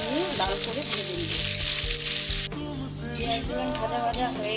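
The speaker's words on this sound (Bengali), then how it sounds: "একটু লবণ দিয়ে লাল করে ভেজে নিব।" Chopped onions fry in oil with salt, bay leaf and whole garam masala in a pan for a dhaba-style egg curry, giving a steady close sizzle with stirring scrapes. The hiss drops slightly about halfway through.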